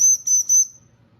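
A whistle built into an outdoor survival multitool, beside a ferrocerium rod, blown in three short, shrill, loud close blasts, each with a breathy hiss, then quiet.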